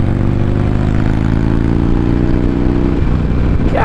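A 2019 Harley-Davidson Iron 1200 Sportster motorcycle roars steadily up close with a continuous low, throbbing engine drone, its pitch shifting slightly near the end as the ride continues.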